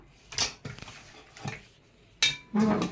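Pieces of duck meat, cut up on a wooden board, go into a cooking pot for a braised duck curry, making several separate clanks and knocks with pauses between them, close by and fairly loud, with no voices.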